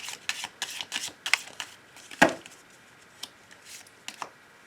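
Oracle cards for a love reading are shuffled close up, giving a quick series of crisp papery flicks and riffles with one sharper snap midway, then quieter scattered taps.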